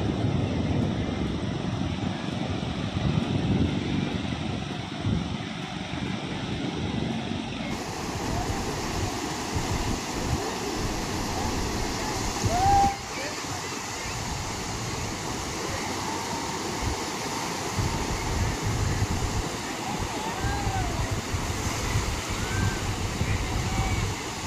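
Sea waves wash continuously on Macchipalli beach in Andhra Pradesh, a steady broadband surf roar that stays at a moderate level throughout and partly mixes with wind and distant background noise.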